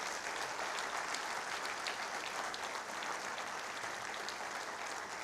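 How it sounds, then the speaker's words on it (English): An audience in an auditorium at a university convocation ceremony gives sustained applause and a standing ovation, dense even clapping that holds steady and loud throughout, with no talking over it. "May I request the august gathering to join me in applauding and a standing ovation to Shri E. Sridharan ji"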